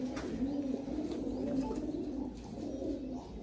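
Royal Teddy pigeons coo in a low, steady murmur, a continuous soft throaty cooing close by with no pauses and no voices over it.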